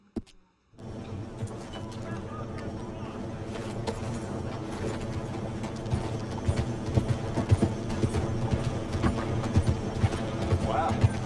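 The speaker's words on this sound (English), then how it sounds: "Wow, fine horse there." Steady clip-clop of horse hooves with occasional snorting from a horse in Red Dead Redemption 2, continuous under a busy game-like background, with speech mixed in at times.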